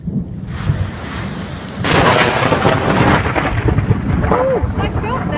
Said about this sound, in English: Thunder, baby!